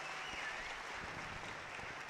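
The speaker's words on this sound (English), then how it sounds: "please, one more time, give a huge round of applause for Mr. Nale Hukatayval." An audience applauds in a studio setting, a steady wash of clapping hands that holds at a moderate level throughout, with no speech over it.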